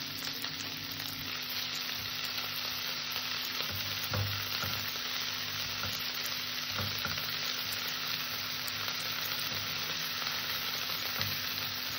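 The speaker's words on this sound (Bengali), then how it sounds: "সর্বপ্রথমে আমি মাছগুলো ভেজে নেব" Prawns frying in hot oil, kept light rather than crisp: a continuous loud sizzle with occasional spatula scrapes and stirring knocks, no one speaking.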